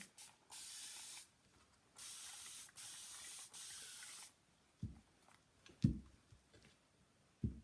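Several long hissing bursts from a spray bottle or sprayer, each about a second, followed by a few soft knocks and handling sounds.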